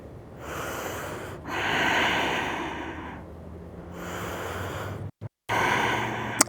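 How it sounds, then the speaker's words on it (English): Steady yoga breathing while holding a pose with legs lengthened: slow, loud, close-up inhales and exhales with an airy rush, several full breath cycles, then a brief silence before another breath, no talk. "Breathing."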